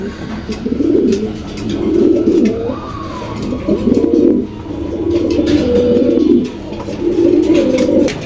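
Pigeons at a pigeon market coo loudly and close by in repeated rolling phrases, several birds overlapping in a rhythmic, throaty chorus.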